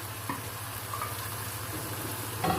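Onion tipped into a frying pan while making chicken Manchurian sets off a steady close sizzle and crackle of hot oil that swells slightly at the end, with no voices.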